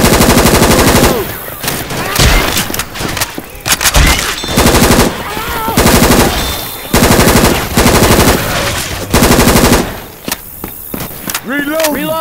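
HK416 rifle fire in Left 4 Dead 2 comes in loud, rapid automatic bursts, roughly six of them, split by short gaps with clanks and voices in between.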